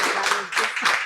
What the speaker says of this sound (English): Audience, you got to give her a round of applause.